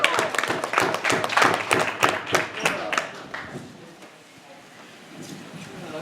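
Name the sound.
audience applause for a stand-up comedian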